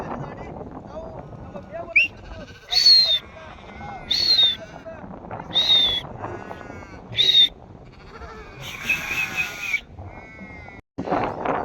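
Sheep and goats in drought-hit Bidar, North Karnataka, short of fodder and water, bleat in several loud, separate calls, roughly five, spread through the clip over a bed of nearby voices and background chatter.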